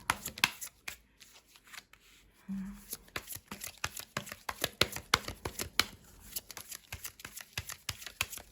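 A deck of tarot cards is shuffled close up in quick, irregular bursts of riffling and slapping, with a brief murmur of a voice partway through.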